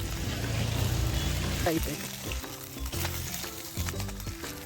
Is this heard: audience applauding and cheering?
no